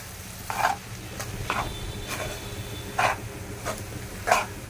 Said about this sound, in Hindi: ये बटाटा सब में मिक्स हो जाता है